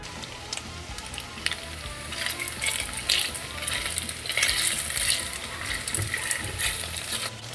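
Kebab meat fries in olive oil, fat and butter, giving a steady, close sizzle with bubbling crackle that swells slightly midway and continues without speech.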